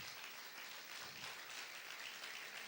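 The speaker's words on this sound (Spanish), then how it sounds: "Vamos a aplaudir fuerte al Señor." Church congregation clapping loudly in praise during a sermon on Romans, a steady dense wash of applause that is fairly faint and distant, with no voices rising above it.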